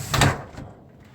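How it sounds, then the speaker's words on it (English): A lightweight sliding shower door in a Class C RV shuts with a brief rolling slide and soft thud, followed by quiet. "close the door."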